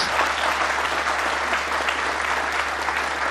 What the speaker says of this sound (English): The crowd really getting behind Mark King